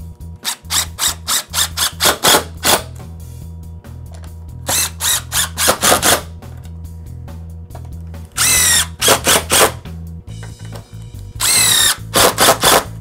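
Drill driving screws through a small metal plate into OSB stud wall blocking, heard as repeated short whirring pulses in quick groups and a few longer, harsher bursts, loud and close throughout.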